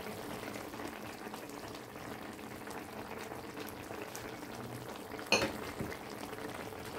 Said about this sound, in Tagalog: Antayin ko kumulo para lagyan ng egg.